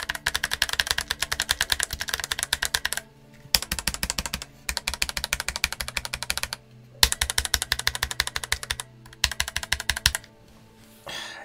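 Fast typing on an Eyooso Z88 Super Scholar, a budget 75% mechanical keyboard with thin shine-through keycaps. It gives sharp clacky keystrokes in several steady bursts with short pauses between them, close up with no talking.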